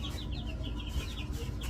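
Young chickens in a brooder on a spring homestead, a steady chorus of soft clucks and peeps close by, with no talking.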